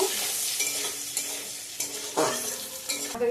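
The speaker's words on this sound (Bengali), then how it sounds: "পেঁয়াজটাকে ভালো করে ভেজে নেব পেঁয়াজ শুকনো লঙ্কা তেজপাতা পাঁচফোড়ন দিলাম" Onions fry with dried chili, bay leaf and panch phoron in hot oil, crackling under a steady sizzle while a spatula scrapes and stirs the pan in repeated, close strokes.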